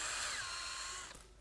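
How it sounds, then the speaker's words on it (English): A power drill whines loudly as an extractor bit, running in reverse, bores into a one-way screw; the steady high-pitched spin holds for about a second before winding down. "a bolt extractor bit that drills out for a bolt extractor runs to the left"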